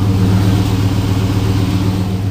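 A GM car's engine running with a rattling pipe, a loud, close, steady idling drone with a low pulsing throb throughout, no talk.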